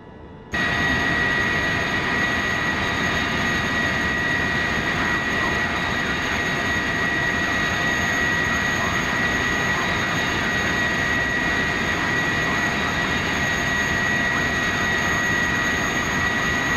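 Boeing 707 jet engines in Flight Simulator X, a loud, steady roar with a high whine that starts abruptly and holds constant throughout.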